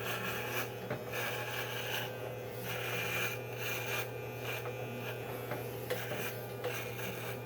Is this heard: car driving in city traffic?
no